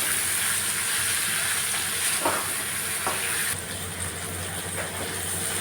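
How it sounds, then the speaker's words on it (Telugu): Tomatoes and carrots frying in a pan for Indian-style veg hakka noodles, a steady broad sizzle with a few stirring scrapes, close and continuous throughout with no talk. "నెక్స్ట్ టమాటాలు వేస్తున్నాను, క్యారెట్, టమాటా. కాసేపు వేగనివ్వాలండి."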